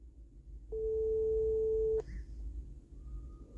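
A phone line gives a failed-call tone: one loud, steady electronic beep lasting just over a second that cuts off sharply, then quiet line noise and faint blips follow.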